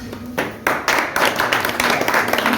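An audience at a certificate presentation ceremony breaks into loud, dense clapping that builds quickly and continues steadily, close and enthusiastic.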